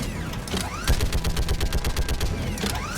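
Rapid machine gun fire from gunnery duty on Palaven's moon in Mass Effect 3 crackles in dense, fast repeating bursts, loud and close, with brief gaps between volleys.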